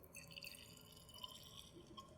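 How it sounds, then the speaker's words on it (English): Deionized water trickles and drips into a test tube, faint light splashes and small glassy plinks close by in a quiet lab setting, with no speech. "Take some deionized water."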